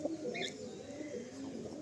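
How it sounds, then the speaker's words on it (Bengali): Hazarwala breed pigeons coo in soft, low, murmuring tones, close and fairly quiet, with a faint chirp heard briefly over the cooing. "এটা হচ্ছে হাজারওয়ালা নসলের পায়রা তাই তো?"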